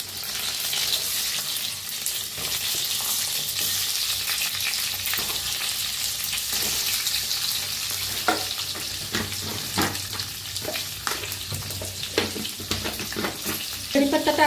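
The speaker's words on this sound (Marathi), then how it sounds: "अर्धा चमचा जिरं, थोडंसं हिंग, आता त्याच्यात टाकूया या मिरच्या," Green chillies fry in hot oil with mustard seeds, cumin and asafoetida, giving a continuous loud sizzle with scattered sharper crackles and spoon-stirring scrapes growing busier toward the end; no one speaks.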